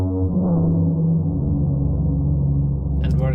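A slowed, layered sound design effect for animation, stretched, cut and glued together, forms a loud, thick sustained drone with a slight swell near the start and a brief brighter burst at the end.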